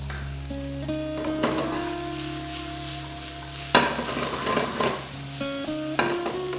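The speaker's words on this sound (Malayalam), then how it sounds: "ചെറിയ ചുവന്നുള്ളിയാണ്. പിന്നെ നന്നായിട്ടിട്ട് വഴറ്റി കൊടുക്കാം." Finely chopped small red shallots sauté with a pinch of salt in a pan, a near sizzle with bursts of stirring and scraping, while stepped musical tones play underneath.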